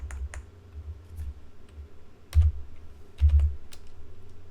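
Typing on a computer keyboard while entering values in CAD drawing software: scattered close key clicks, with two louder clustered bursts of taps over a quiet background.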